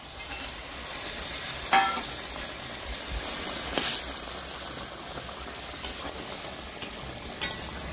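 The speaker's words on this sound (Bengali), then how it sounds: "মা এবার মাছগুলোকে দিয়ে দিচ্ছে।" Pabda fish dropped into a boiling mustard paste curry set up a steady close sizzle and bubbling, with a few soft stirring knocks and clinks over the hiss and no speech.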